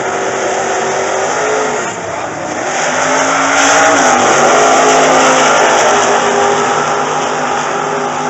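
A sportsman-class drag racing car accelerating hard down a drag strip, a loud continuous engine roar that dips briefly then climbs steadily in pitch, with crowd and track noise around.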